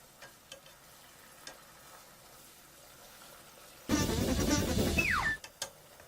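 Clam meat for a rice-noodle vongole pasta hits a hot frying pan and sizzles loudly for about a second and a half, then cuts off, after quiet kitchen background and a few light clinks.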